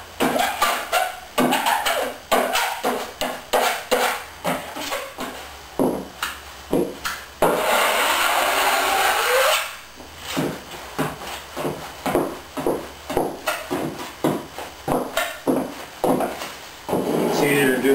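Epoxy spread thinly with a tool across woven fabric, giving repeated short scraping and tapping strokes under a voice, with one sustained smearing stretch midway.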